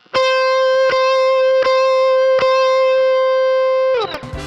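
Electric guitar notes allowed to ring out and sustain, a long held tone with a few picked attacks, close and clear, ending in a brief scrape.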